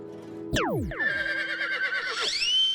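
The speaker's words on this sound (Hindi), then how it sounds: "ये तो एक्स्ट्रा घोड़ा आ गया।" A horse whinnies loudly and close by, a sharp descending cry followed by a long wavering neigh that rises again at the end.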